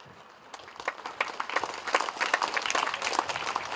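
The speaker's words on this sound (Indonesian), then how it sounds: "Tepuk tangan." Applause from an audience at a women's Baptist seminar gathering in Lanny Jaya, starting sparse and quickly building into steady, dense clapping that carries on to the end.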